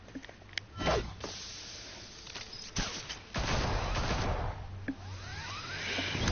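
Gunfire bursts in Batman: The Telltale Series, a few sharp cracks and a denser volley amid a busy, moderately loud action scene with no talking.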